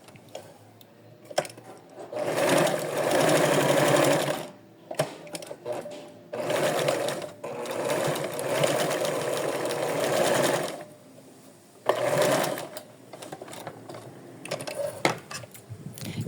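A sewing machine runs a zigzag stitch on small doll clothes in bursts of rapid mechanical whirring of several seconds each, separated by pauses with light handling clicks.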